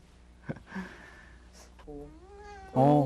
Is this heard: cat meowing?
yes